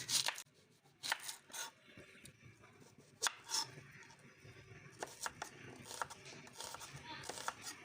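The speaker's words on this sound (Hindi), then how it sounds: "प्याज काट लेते हैं।" Onions being chopped with a knife on a board, a series of sharp, irregular taps and cuts, close and distinct, with faint shuffling between strokes and no talking.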